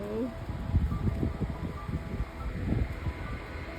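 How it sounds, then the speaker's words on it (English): Gusty wind on the coast buffets the microphone in low, uneven rumbling bursts that rise and fall throughout. "It's super windy."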